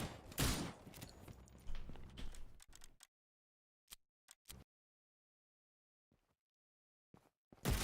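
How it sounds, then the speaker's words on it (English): Pistol shots fired in a video game: a loud burst of blasts opens, then several short isolated cracks are spaced apart across near-silent gaps, ending with another sharp report. "Maybe let's try the pistol."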